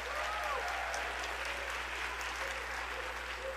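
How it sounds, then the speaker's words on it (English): A school district audience at a student oratory competition applauds steadily, a faint, even wash of clapping that holds for several seconds without breaks. "Let's give them a round of applause."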